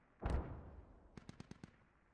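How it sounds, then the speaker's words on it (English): An explosion in the military shooter Squad lands as one distant deep boom, followed by a quick rattling burst of five or six sharp gunshots, faint and far off. "Oh, what was that explosion?"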